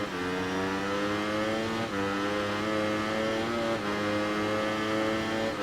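A Ducati motorcycle accelerating in Ride 3 on the Isle of Man course, a loud, close engine whine climbing in pitch through successive gear changes with brief dips between shifts.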